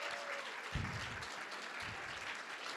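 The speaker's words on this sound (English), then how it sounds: "Families in the house, we gotta give them a round of applause" Audience applause fills a speech pathology hooding and pinning ceremony as the crowd honors families in attendance: steady, dense clapping throughout, with a couple of louder low thumps near the middle.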